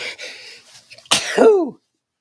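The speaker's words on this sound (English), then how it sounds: "That's a sneeze, an actual real sneeze on the air" A single close sneeze, preceded by a few soft breaths and faint sounds, ending in a sharp burst followed by silence.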